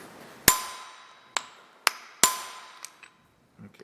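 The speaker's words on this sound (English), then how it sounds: "Who doesn't like hammering" Hammer strikes on metal parts of a Wilton Baby Bullet vise under construction: four sharp, ringing clangs at irregular spacing, each decaying quickly, followed by faint small taps, close and alone.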